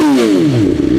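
A 2021 BMW XR sport-touring motorcycle engine revs loudly and up close, its pitch sweeping down and back up in one continuous roar with a little mechanical clatter.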